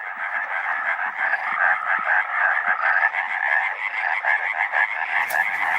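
A European tree frog croaks in a rapid, continuous pulsing chorus of loud nasal calls, close and alone, with only faint background rustling.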